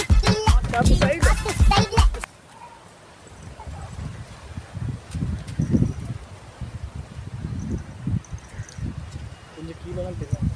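Gusty wind rushes through leaves on a rainy day, a steady broadband rustle with low buffeting swells, after a voice speaks briefly at the start.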